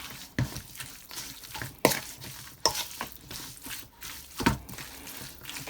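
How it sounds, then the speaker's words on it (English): Peppered pot lamb with oyster and soya sauce being stirred in a pot, wet scraping strokes repeating every second or so over a soft, steady sizzle. "So I'm gonna give it a stir."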